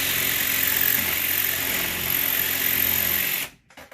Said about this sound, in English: we're just going to take our drill and just carefully drill through this